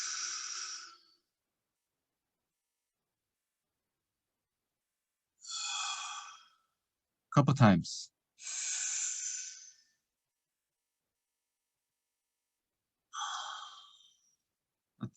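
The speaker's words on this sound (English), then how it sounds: "Respirar profundo." Slow, deep breathing exercise: long drawn breaths, each lasting about a second, separated by long pauses, with one sharper, rougher exhale midway.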